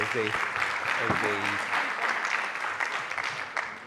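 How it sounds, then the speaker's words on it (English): Applause from the audience at a college policy conference fills the hall, a dense steady clapping that fades slightly toward the end, with a voice briefly heard at the start. "Let's just give them a round of applause"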